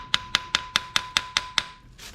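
A small handheld hammer taps metal parts during an engine removal on an Audi S4, eight crisp, evenly spaced metallic strikes ringing close and loud, followed by a faint fading scrape.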